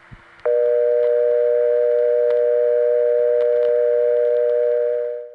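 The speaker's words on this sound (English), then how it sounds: "Anyway, back to this 451 dial tone." A 1970s telephone exchange 451 dial tone hums steadily and loudly after a brief click, a continuous sustained tone with faint line clicks underneath that fades out at the end.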